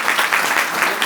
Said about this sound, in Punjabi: ਜ਼ੋਰ ਨਾਲ ਤਾੜੀਆਂ ਲਾਈਏ।